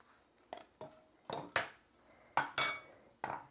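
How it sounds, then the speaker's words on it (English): A knife thinly slicing onion on a cutting board: a series of about eight crisp cuts with sharp clicks of the blade against the board, each with a short crunchy tail, close and fairly quiet. "Now you notice as I'm slicing, I'm keeping that part of the knife down."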